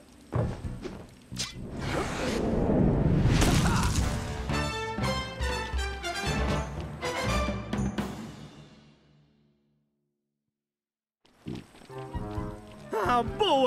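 In the video game Sly 4 on PS3, a hard whack breaks something open with a crashing burst, then clattering, scattering debris that fades into silence. After a short gap, more impact sounds follow.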